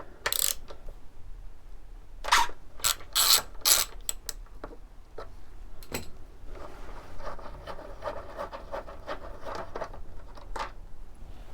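Quick clicking bursts of a ratchet turning Allen bolts on a motorcycle, close and sharp in short runs with pauses, then a softer steady mechanical whirr.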